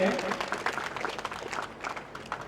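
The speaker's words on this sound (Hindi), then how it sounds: "ताली बजाएं" A seminar audience claps for two honored people, a fairly close, uneven patter of hands that rises and dips, with a voice talking over it.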